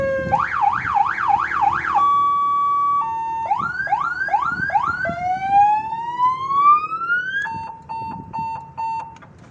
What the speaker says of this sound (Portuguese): Aperta aí a buzina.